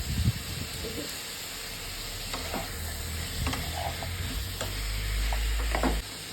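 Chopped raw onion fries in a pan alongside potatoes, with scattered stirring clinks over a faint sizzle that swells into a louder hiss before cutting off.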